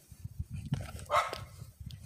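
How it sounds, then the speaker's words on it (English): A dog somewhere nearby barks once in a short, sharp burst amid low outdoor rumble and scattered thumps, with faint fainter yelps around it. "Dog over there making a lot of noise"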